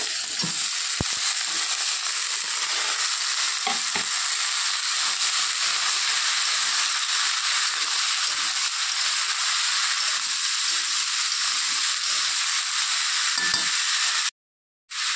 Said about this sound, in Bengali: এখন এর মধ্যে ঢেলে দেব কেটে রাখা চিচিঙ্গা।